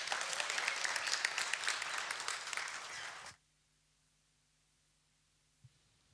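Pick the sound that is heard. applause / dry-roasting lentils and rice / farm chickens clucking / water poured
applause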